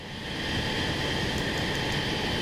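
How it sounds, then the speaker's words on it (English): An F-35 jet engine throttling up in Microsoft Flight Simulator, a steady broadband roar with a high whine that swells over the first half-second and then holds loud and constant. "Let's open the throttle up just a little bit more to help us make that turn."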